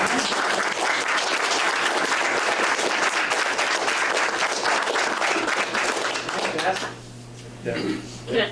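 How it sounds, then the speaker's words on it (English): A big round of applause at a school district board meeting, dense clapping from a room of people that runs strong and then thins out, leaving scattered claps and a voice at the end. "I'd just like to give him a big round of applause."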